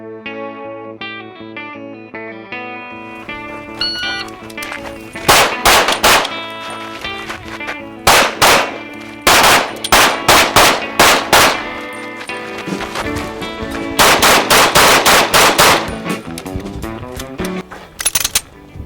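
Shots ring out at competition shooting practice in loud, sharp clusters of rapid bangs separated by pauses, layered over steady tonal background music with no talking.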